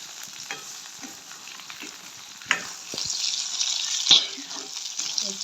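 Potatoes and chillies fry in a pan, a close, steady sizzle and crackle punctuated by a couple of sharper stirring clatters, with the hiss swelling louder in the second half.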